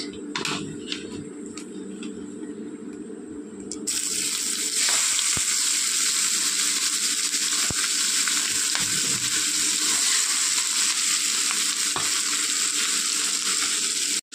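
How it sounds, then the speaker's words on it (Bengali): Chopped onion hits hot fish-frying oil tempered with nigella seeds, bursting into a loud, steady sizzle after a quieter start, with occasional stirring clicks and no talk. "তো চলুন পেঁয়াজটা একটু ভাজা ভাজা করে নিয়ে আসছি"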